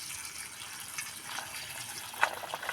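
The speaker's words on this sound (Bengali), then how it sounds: "এটাকে আমি ভিজিয়ে নেব গরম জল দিয়ে, উষ্ণ গরম জল দিয়ে ভিজিয়ে রেখে দেব 10 মিনিট" Warm water is poured over 200 grams of dried soybeans to soak them, a soft, steady watery hiss with a brief splashy spike near the end.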